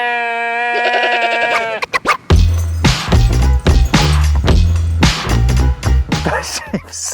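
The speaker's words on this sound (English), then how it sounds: "that sheep is so noisy" A sheep bleats loudly and close by in one long, wavering call at the start, followed by thumps and rustling as a trail e-bike rolls through the countryside.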